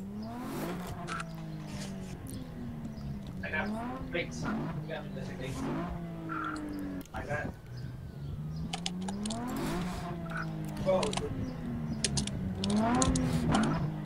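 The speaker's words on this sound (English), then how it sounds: "can you stop the engine?" Car engine idling and revving during an off-road police traffic stop, a steady motor drone with rising and falling pitch sweeps throughout, with talk running over it.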